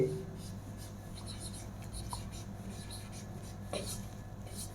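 A marker or chalk scratches across a classroom board in short strokes and squeaks, faint against a steady background hum and mixed with a few soft voice sounds.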